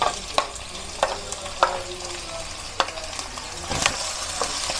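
A spatula scrapes and stirs pancit bihon rice noodles with shredded boiled chicken and chorizo in a hot pan, with sharp periodic scrapes over a steady soft sizzle and no voices.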